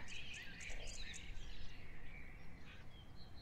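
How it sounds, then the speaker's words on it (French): Birds chirp and twitter faintly outdoors over a steady hum of insects, the calls scattered and distant. "entendre le bruit des oiseaux qui volent librement dans le ciel"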